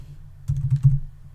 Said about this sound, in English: you need to come to the terminal